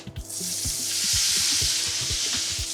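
Ox tongue sizzles loudly in a hot pan, a dense steady frying hiss close by, broken by repeated low knocks and scrapes as the pieces are laid out and moved.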